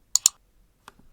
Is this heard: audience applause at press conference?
no